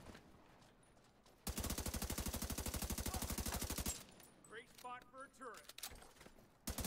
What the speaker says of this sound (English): he just put down a turret